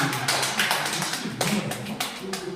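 Scattered audience clapping at a lecture on creative thinking, a thin, uneven patter of a few hands at moderate distance, steady through the short stretch without any talk.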